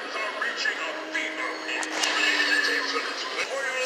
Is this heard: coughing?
no